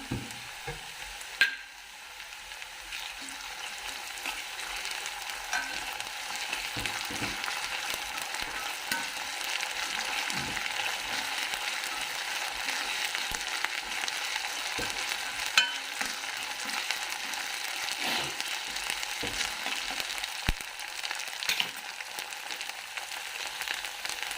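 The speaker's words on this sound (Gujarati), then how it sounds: "હવે આપણે જે આદુ મરચાંની પેસ્ટ છે એ એડ કરી દઈશું" Ginger-chili paste sizzling in hot oil in a pan while cooking Saurashtra-style green olo, a steady bright frying hiss with occasional faint stirring clicks, no talking.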